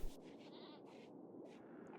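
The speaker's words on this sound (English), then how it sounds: "We have a goat." A goat in a video game gives a short, faint bleat at the start, and low game ambience continues beneath it.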